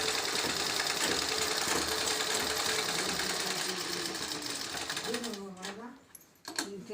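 A sewing machine stitches a blouse with a loud, continuous whirring rattle that runs steadily and then slows and stops near the end, as a voice speaks over it.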